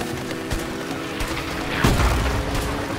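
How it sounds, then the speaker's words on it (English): Grenade explosions in the video game A Way Out: a series of heavy, muffled booms and thuds with one stronger blast near the middle, over a constant dense rumble of battle noise. "Shit! Grenades! Watch out!"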